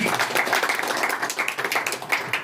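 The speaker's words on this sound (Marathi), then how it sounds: "आपण सर्वांनी त्यांचं टाळ्या वाजून कौतुक करूया" An audience at a Marathi music concert applauds with dense, continuous clapping for the full stretch, evenly loud with no other sounds standing out.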